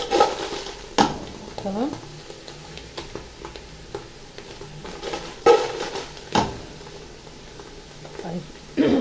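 Food fries in a pan and is stirred and flipped, making a steady close sizzle under scraping utensil strokes and a few sharp knocks against the pan, with a voice talking briefly over it.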